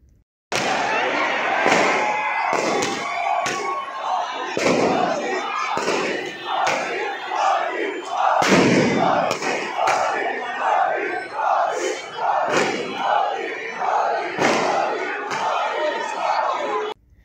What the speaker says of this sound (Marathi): राजकमल चौकात सुद्धा हजारो नागरिकांनी एकच जल्लोष व्यक्त केला